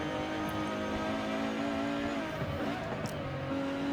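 Race car on slick tyres in Forza Horizon 5 on the Goodwood hillclimb, a steady loud engine whine that wavers as the revs shift midway, with faint tyre noise and no talk.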